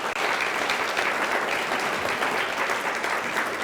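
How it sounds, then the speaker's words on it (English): Sustained applause from a morning breakfast audience, dense and steady, fills the room at close range for the whole stretch. "Let's give them a round of applause."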